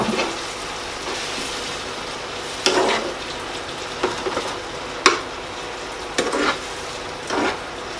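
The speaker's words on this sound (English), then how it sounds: "I'm going to add the chopped tomatoes in just now" Chopped tomatoes going into a pot of bolognese sauce for a budget family spaghetti dinner. A steady low sizzle runs throughout, broken by several sharp splashing clatters and short stirring scrapes, all close and with no voices.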